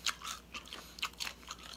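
Crispy deep-fried chicken feet being chewed close up, a run of crackly, brittle crunches in an uneven rhythm of bites. The sound is quiet, and nobody talks over it.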